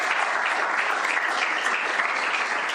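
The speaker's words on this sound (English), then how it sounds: "Big round of applause as well." Dense audience applause at a high-level European Parliament conference on academic freedom, a full, even roar of many hands clapping, sustained and fairly loud throughout.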